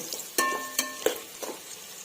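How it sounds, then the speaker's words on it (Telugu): Onions frying in hot ghee for chicken biryani, with a few distinct stirring scrapes and soft sizzles spaced across a couple of seconds, close and fairly quiet. "ఇవన్నీ కూడా బాగా ఫ్రై చేసుకుందామండి, గోల్డెన్ బ్రౌన్ కలర్ వచ్చేంత వరకు"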